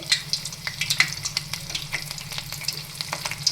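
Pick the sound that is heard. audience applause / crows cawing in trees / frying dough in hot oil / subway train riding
frying dough in hot oil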